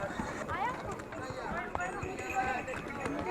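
Horses at the Kufri tourist spot near Shimla clip-clop along in an uneven rhythm of hoof strikes, close by, amid busy crowd chatter and voices.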